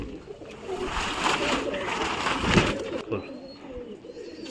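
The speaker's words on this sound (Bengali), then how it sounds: "তো এই পায়রা ছাড়ছে, খুলে দেওয়া হলো, এই সব উড়ে গেল" Young pigeons are let out of a loft and take off together in a dense burst of flapping wings, loud at first and then thinning out as the flock flies away.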